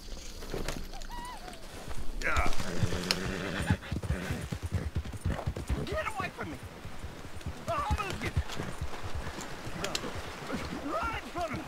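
Horse hooves clip-clopping during riding in the Red Dead Redemption video game, a rhythmic run of hoof beats mixed with game sounds and a voice speaking over them.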